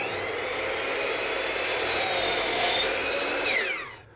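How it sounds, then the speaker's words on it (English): A compound miter saw cuts wood panels for a pirate treasure chest at a 3-degree miter. Its steady, loud, high-pitched whine holds for about four seconds, then winds down as the blade finishes the cut. "Our compound miter saw should make that job pretty easy."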